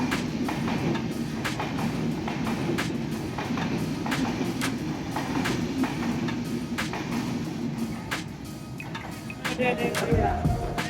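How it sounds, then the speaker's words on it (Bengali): Mitali Express passenger train bound for Dhaka runs through Panchbibi railway station on line two without stopping, hauled by a locomotive, with steady loud rumble and repeated clickety-clack wheel beats close by, faint voices in the background. "ঢাকাগামী মিতালি এক্সপ্রেস পাঁচবিবি রেল স্টেশনের দুই নম্বর লাইনতে থ্রু পাস করে চলে যাচ্ছে ঢাকা অভিমুখে"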